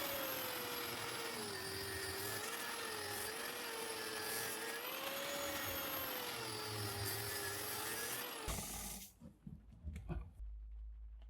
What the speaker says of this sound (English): Just a quick tip with your angle grinder, don't force it.